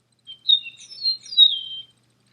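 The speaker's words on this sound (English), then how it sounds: "I think there's a bird in my room" Bird chirping inside a room, a short series of high, clear tweets and trills lasting under two seconds, close and distinct against silence.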